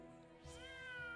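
A cat in a video game gives a single drawn-out meow that rises and then slowly falls, quiet over a low background hum.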